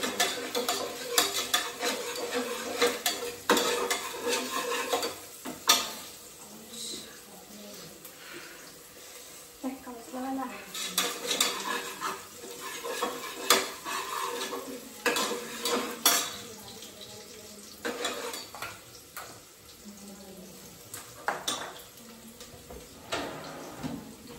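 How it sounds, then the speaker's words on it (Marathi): Onions frying with salt in a pan for peanut khichdi, a continuous sizzle broken by repeated stirring and clinking of utensils against the pot, a faint voice now and then in the background. "मीठ टाकते म्हणजे कांदा जळत नाही आणि लवकर लाल होते"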